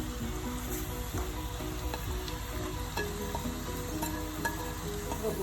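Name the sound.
frying onions and garlic in oil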